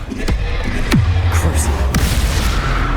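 Confringo fire spell in the Hogwarts Legacy game, a few booming blasts with deep rumbling tails and sharp whooshing impacts, loud and close over continuous low game ambience.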